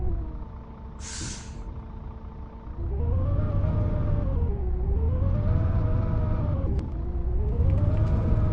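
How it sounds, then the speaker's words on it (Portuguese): Scania bus engine with a strange noise in a bus simulator game: a loud, steady diesel drone with a wavering whine that rises and falls, preceded by a short hiss like an air brake release. "O ônibus está com barulho estranho."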